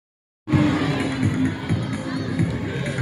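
Children cheering at a school sports day race: a sudden loud swell of crowd shouting and cheering that starts abruptly and stays dense and steady.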